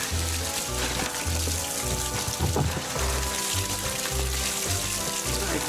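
Fluid drains from a HANOMAG 44D loader in a steady, gurgling trickle with irregular splashes and faint spattering, close and continuous throughout.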